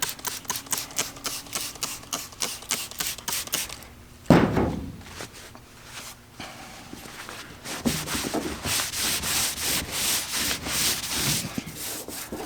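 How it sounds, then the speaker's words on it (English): Sanding away stubborn sticker residue on a surface, a steady rasping scrub that repeats in quick strokes, with a sharp knock partway through before the rubbing resumes more loudly. "I'm literally gonna have to sand this stuff off."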